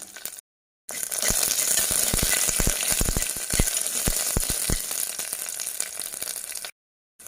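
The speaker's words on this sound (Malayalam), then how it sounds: "ശേഷം നമ്മൾ അരിഞ്ഞു വെച്ചിരിക്കുന്ന ഇഞ്ചി വെളുത്തുള്ളി ഇട്ടിട്ട് നന്നായിട്ടൊന്ന് വഴറ്റി എടുക്കാം" Ginger, garlic, green chilli and curry leaves sautéing in hot oil, a loud, close crackling sizzle with repeated scraping stirs that runs for several seconds between brief silent gaps.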